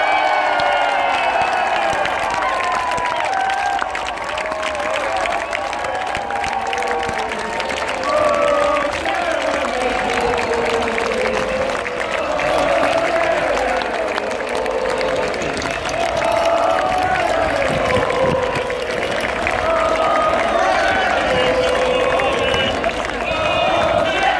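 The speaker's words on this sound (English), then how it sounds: "let's have one big Durham Miners Gala cheer for the next Prime Minister of this country, Jeremy Corbyn!" A large outdoor crowd at the Durham Miners Gala roars and cheers loudly and without a break, with clapping and whoops mixed into the noise as a speaker's voice carries over it.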